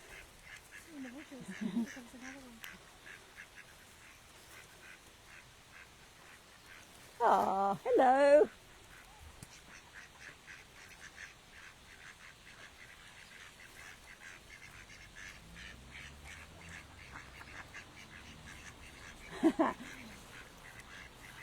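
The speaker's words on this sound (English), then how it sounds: "there's some little ducks coming at us through the jungle." A couple of loud duck quacks burst out in a short series at Sanquhar Pond, followed later by another quack, over a quiet outdoor background with a brief spoken greeting.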